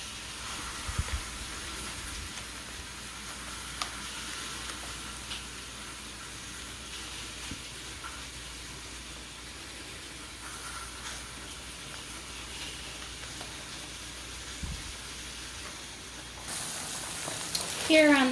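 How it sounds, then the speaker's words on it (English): Bratwursts sizzle steadily in a cast iron skillet, a soft continuous frying hiss with occasional pops and a brief clatter near the end. "Over here in the cast iron skillet I have some brats."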